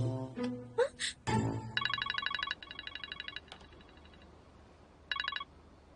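A phone ringtone sounds in a dubbed K-drama scene, with repeated electronic ringing bursts in a steady rhythm after some short vocal sounds, moderately loud over a quiet room.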